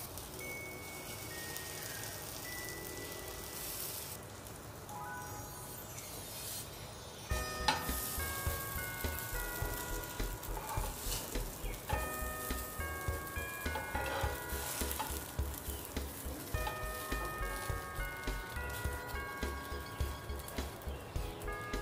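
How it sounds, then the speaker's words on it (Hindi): Soya chunk kebabs frying in refined oil on a tawa over a gas flame, a quieter crackle that jumps to a louder, busy sizzle with rhythmic spattering pulses and occasional utensil taps, no speech. "तवा हमने गैस पे चढ़ा लिया है, उस पर हम डालेंगे रिफाइंड तेल। फिर हम डालेंगे कबाब"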